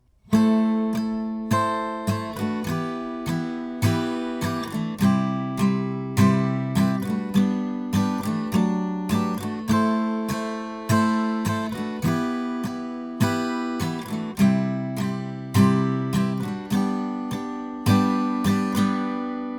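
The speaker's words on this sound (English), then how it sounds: "the simplest way of playing this verse sounds like this" Acoustic guitar strumming a song verse in a steady down-down-up pattern, each chord strum ringing out in even repeated pulses, close and alone.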